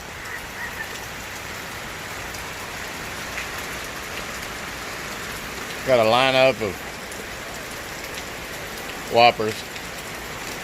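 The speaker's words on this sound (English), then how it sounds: "We're staying out of the rain, huh?" Steady rain pattering on an awning overhead, a soft continuous hiss throughout, with two short bursts of a man's speech near the middle and end.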